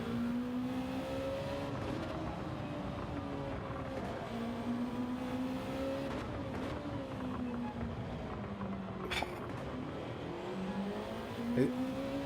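Race car engine in Gran Turismo 7 online racing drones steadily and loudly, its pitch rising and falling through gear changes with a constant wash of noise and a brief sharp sound near the end.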